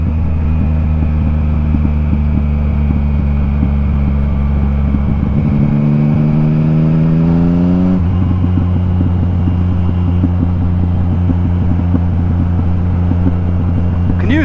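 A Yamaha MT-09 motorcycle with an Akrapovic exhaust rolls downhill with revs held up, its loud, close engine drone shifting pitch mid-ride while crackling exhaust pops scatter throughout.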